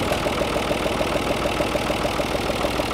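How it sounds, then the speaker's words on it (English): A tractor engine runs steadily at a barn while arcade games are hauled out, a continuous mid-pitched idling drone with a faint regular pulse throughout, close and fairly loud with no talking. "and taking it out with the tractor over here."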